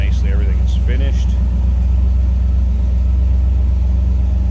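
A 1957 Chevrolet Bel Air convertible engine idles smoothly and steadily, a close, continuous low rumble throughout, with a voice briefly speaking over it at the start.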